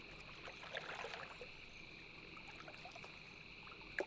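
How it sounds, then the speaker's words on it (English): Crickets chirp steadily in a quiet outdoor night ambience in World of Warcraft, a faint, constant high trill with a few soft clicks and splashes. "Can hear the crickets chirping."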